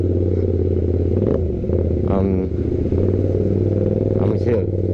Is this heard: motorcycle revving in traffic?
yes